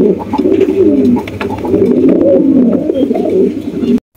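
Domestic pigeons kept by a breeder coo close and loud in repeated throaty rolls, overlapping almost without a break until the sound cuts off abruptly near the end.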